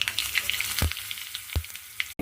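Curry leaves crackle and sizzle in hot oil for a pickle tempering, a dense frying hiss with a few sharp pops and spatters, close up and without speech.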